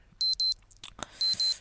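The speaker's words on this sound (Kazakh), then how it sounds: "Будильник шырылдап кетті." A Minecraft alarm clock rings in two pairs of sharp, bright electronic beeps separated by a short pause, with soft clicks in between.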